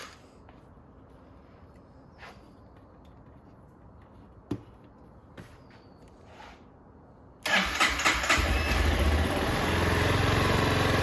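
A Honda CRF 230L motorcycle engine catches and starts after a quiet stretch with a few small clicks, then settles into a loud, steady idle that runs on to the end.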